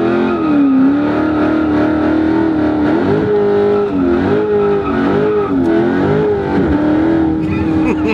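A 2016 Dodge Charger 392 Scat Pack does a tire-smoking burnout, its V8 roaring loud and close with wavering revs over a continuous screech of spinning tires.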